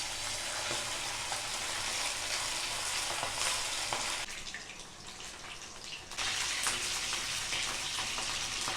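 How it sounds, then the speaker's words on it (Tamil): Marinated chicken frying in a frying pan on a stove, a loud continuous sizzle and crackle that briefly softens for a couple of seconds before surging back. "இப்போது ஊற வச்ச சிக்கனை அதில் போட்டு ஃப்ரை பண்ணி எடுத்துக்கலாம்."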